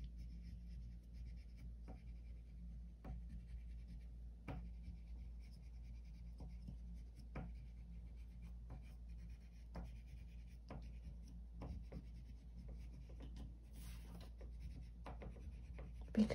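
Oil pastel strokes on paper make soft, scratchy rubbing sounds, repeated at an irregular pace over a quiet room hum with no talking.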